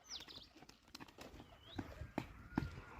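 A pigeon flutters close by, its wings giving a few quick soft flaps amid scattered knocks and light rustling.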